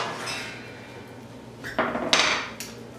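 A cooking pan is set down on a counter during plant-based snack preparation, giving a couple of close, sharp clatters and knocks with no talking.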